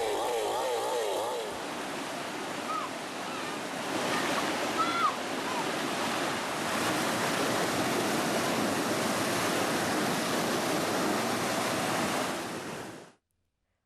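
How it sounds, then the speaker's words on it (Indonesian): Flash flood water from an overflowing river rushes loudly and steadily, carrying timber logs downstream in a dense, continuous roar that fills the scene from start to finish before cutting off abruptly. "Banjir bandang disertai dengan material kayu gelondongan ini berasal dari hulu sungai yang meluap."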